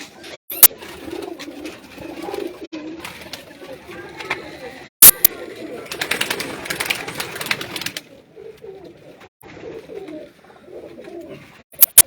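Pigeons coo at a pigeon club loft in Mianwali, with soft repeated calls spread through the clip, broken by a few sharp clicks and a burst of flapping or rustling in the middle; no one speaks.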